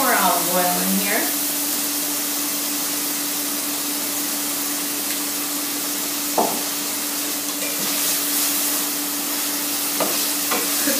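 Beans with olive oil sizzle steadily in a pan, with brief scraping stirs and a low hum running underneath.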